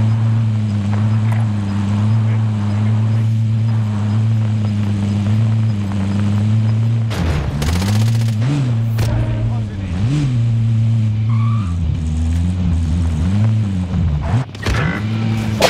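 A car drives in Call of Duty: Modern Warfare, a steady mid-pitched engine drone that dips and swells as it shifts and bumps, with a couple of sharp knocks midway and voices talking over it.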